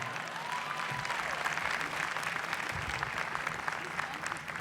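Commencement audience at Boston University applauding a speaker, a steady dense wash of clapping that holds for several seconds with no break.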